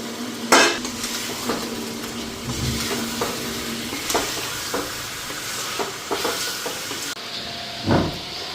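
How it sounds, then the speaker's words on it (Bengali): Chicken pieces frying in a pan with spices, stirred with a utensil: a steady sizzle runs throughout, broken by repeated scraping and clinking strokes. There is no talk. "তো চিকেনগুলি এখন দিয়ে দিলাম"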